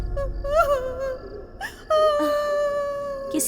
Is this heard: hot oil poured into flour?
no